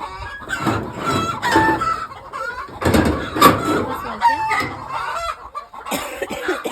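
Domestic hens kept for eggs cluck loudly and close by in repeated overlapping bursts, with a few drawn-out squawks and a brief crow-like call among them and no voices.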